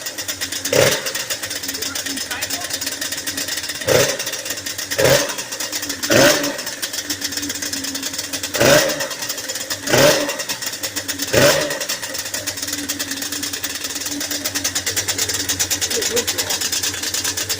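A freshly rebuilt Yamaha Banshee 350 motorcycle engine idles high with a cracked exhaust pipe, a steady close raspy two-stroke drone broken by several sharp blips, while people talk over it.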